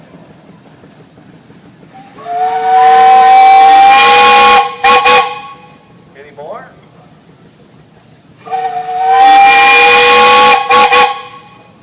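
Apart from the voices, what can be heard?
steam engine whistle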